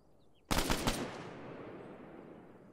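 A rifle volley fired at a memorial parade in Arma 3, a sharp burst of several near-simultaneous shots followed by a long fading echo, heard fairly close and alone.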